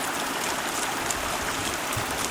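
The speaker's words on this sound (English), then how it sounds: "Here's the outflow of High Lake." Water flows steadily in a stream at the outflow of High Lake, a continuous bright rushing and splashing heard close by, with no voices.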